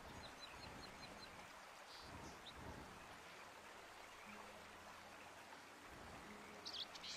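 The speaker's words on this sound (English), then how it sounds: "Listen to the birds chirp." Faint, sparse bird chirps in the video game Red Dead Redemption, over a steady wash of ambient outdoor noise, like a stream or breeze, with a few brief rustles.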